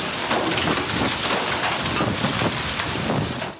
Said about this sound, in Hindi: बड़े बड़े ओले गोले बनकर गिरे।